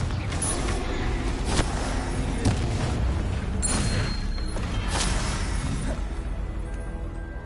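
Confringo explosion spell blasts in a Harry Potter-style video game, heavy booming bursts and crackling under a dense continuous rumble, with several sharp impacts spread across the clip.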